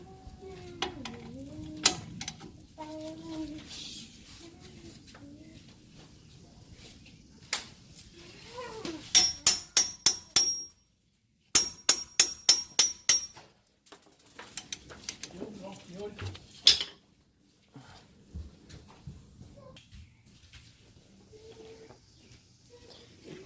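A ratchet loosens two 22 mm brake caliper bracket bolts on a 2010 Nissan Murano: two clear runs of rapid, evenly spaced clicks, separated by a brief silence, among scattered metallic clinks and handling noise.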